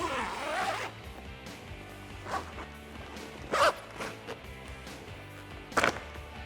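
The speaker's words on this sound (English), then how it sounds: "grab our zipper from this side. We'll go all the way around and unzip it." Rear window zipper on a Jeep Wrangler JK soft top being unzipped, a long close zipping rasp at the start followed by shorter zip pulls and a few sharp clicks and taps as it is worked around the window.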